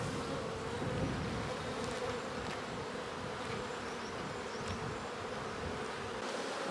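Dense, steady buzzing of many honeybees in an opened hive close by, a continuous hum that holds throughout without pause.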